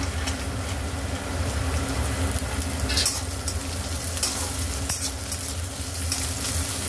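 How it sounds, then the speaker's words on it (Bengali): Carrots and beans fry in a pan for Indian-style chicken chowmein, giving a continuous close sizzle with occasional scraping stirs and no talk. "এবার বিনসগুলো দিয়ে দিলাম"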